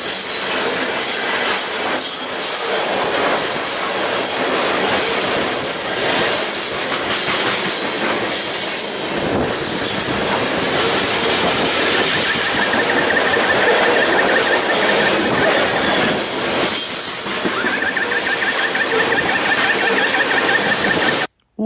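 A CSX Dash 8 diesel locomotive leads a train through Fullerton, California, loud and close for the whole stretch, with rumbling railcars, clattering wheels and high squealing tones that come and go.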